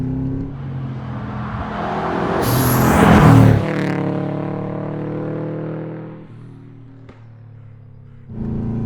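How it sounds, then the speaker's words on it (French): A Subaru Impreza GT Turbo engine revs up to a loud, rising peak, then drops back to a steady, lower idle-like drone with a short burst of revving again near the end, heard close and alone. "Ce que j'aime, c'est vraiment le comportement de ce moteur, cette sonorité"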